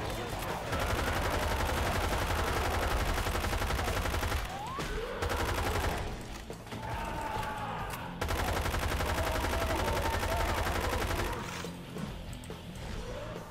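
Rapid automatic gunfire from Left 4 Dead 2 rattles loudly and almost without pause, with brief gaps, crashes and mechanical clanks mixed in and players shouting over the shooting.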